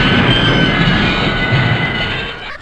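Train arriving at a station, a loud, continuous close rumble of wheels and carriages with a faint metallic tone, fading slightly at the end.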